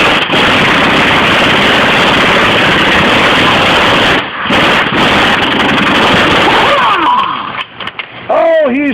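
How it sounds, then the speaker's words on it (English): A 1993 Ford engine runs loud and steady with a dense broadband roar that holds for most of the span, briefly dips, then gives way to rising whine-like tones near the end. "Junior, fire it up and let's get this thing off of here"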